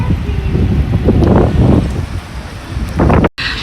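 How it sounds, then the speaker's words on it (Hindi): Strong wind buffets the microphone during heavy rain in Makkah, a continuous rushing roar with gusty swells close up and a brief dropout near the end. "बारिश भी बहुत तेज़ हो रही है।"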